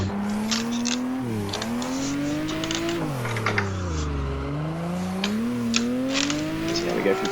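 A car's engine climbs and drops in pitch as it pulls through second and third gear around the Ebisu Minami track, a steady, loud drone with repeated rising sweeps and small clicks on top.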